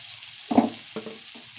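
Tomatoes, green chillies and chopped vegetables hit hot oil in a pan, giving a short burst of sizzling and a couple of stirring scrapes over a low background hiss.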